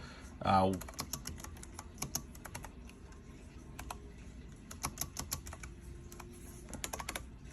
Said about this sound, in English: I was typing, we can type a word, but now I'm just typing random keys